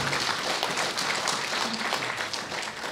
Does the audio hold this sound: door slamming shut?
no